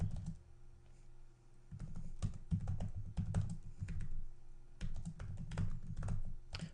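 Router configuration commands typed on a computer keyboard come through as quiet, close clicks in irregular bursts and runs of keystrokes, with a faint steady hum underneath.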